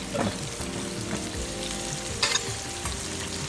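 Garlic and green chili sautéing in a pan make a loud, continuous sizzle, with stirring scrapes and a few sharper clatters. No one speaks.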